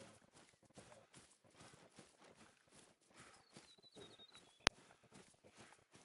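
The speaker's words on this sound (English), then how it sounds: "that's right about where they can start hearing footsteps" Footsteps crunch along steadily while a hunter walks through brush in theHunter: Call of the Wild, a soft continuous patter of steps with one sharp click partway through.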